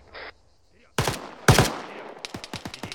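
Incoming gunfire in a military video game: a few faint pops, then two loud nearby cracks, followed by a rattling burst of quicker, lighter shots further off.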